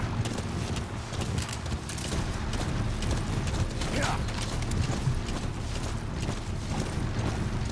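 Horse hooves clip-clop in Metal Gear Solid V, a steady rhythmic patter under continuous mechanical game noise and a voice talking throughout.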